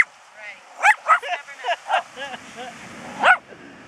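A dog gives a rapid series of sharp, close barks and yips, loud and irregular, with a few pauses and one final bark. A person talks at the same time.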